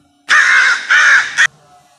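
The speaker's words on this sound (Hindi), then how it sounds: "ढेर सारे कौवे बादल के ऊपर मंडराकर उसे चोंच मार रहे थे।" A single loud, harsh crow caw, drawn out and slightly broken into two or three pulses, close and clear against near silence.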